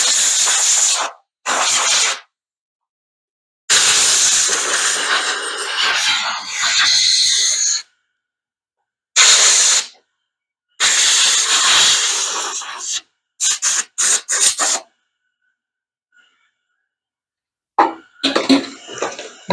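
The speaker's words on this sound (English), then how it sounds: "So we'll go ahead and blow that off just so we can hear that compressor again" Compressed air blasting off a Briggs & Stratton carburetor, a series of loud harsh hissing bursts, some long and some short rapid pulses, separated by silent gaps, close up with no talking.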